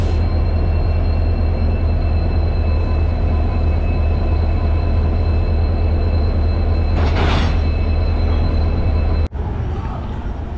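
Guwahati-North Lakhimpur Jan Shatabdi Express rolling on the Rangia Junction line after a locomotive change: a steady, loud rumble of rail carriages with continuous wheel noise, a brief hissing burst near the end, then a sudden drop in level.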